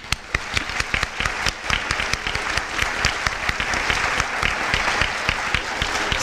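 Audience at a nursing pinning ceremony bursts into sustained applause, with sharp, close individual claps standing out over the steady crowd clapping.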